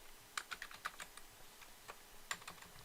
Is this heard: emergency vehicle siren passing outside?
no